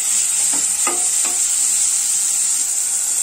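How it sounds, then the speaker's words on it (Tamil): Onion, tomato and garlic are stirred and sautéed in a pan for a green peas kurma, a faint sizzle under a high steady hiss with three soft spoon scrapes early on, no voices. "வெங்காயம் தக்காளி அந்த பூண்டுலாம் நல்லா வதங்கட்டும்"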